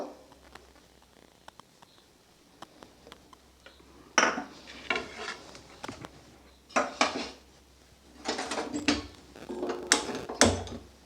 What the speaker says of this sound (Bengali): এবার অন্যদিকে আমি ওভেনে কড়াই বসাবো